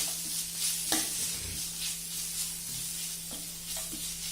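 Grated raw mango frying in a pan for mango rice: a steady hissing sizzle with a low hum beneath and occasional light stirring clicks, close and even throughout.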